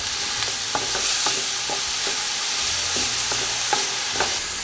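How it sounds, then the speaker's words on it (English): Steady frying sizzle of leeks in a pan with a low hum underneath and a few light taps of a utensil stirring at irregular intervals. "You can hear frying, nice."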